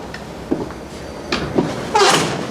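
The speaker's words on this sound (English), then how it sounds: "Hey, buddy, you gonna shut the door?" A sliding door rolls and is shut with a muffled thud and a brief rattle near the end, close by in a quiet interior.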